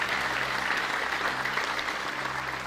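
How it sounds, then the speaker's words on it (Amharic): A church congregation applauds at a sermon, a dense, even wash of many hands clapping together, steady for about three seconds with a slight swell at the end. "ይሄን ጌታ አጨብጭቡለት።"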